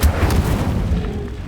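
An Incendio fire spell is cast in a Harry Potter video game, giving a short, heavy whooshing burst with a boomy low rumble that fades quickly.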